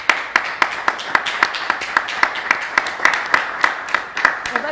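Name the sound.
audience applauding the guests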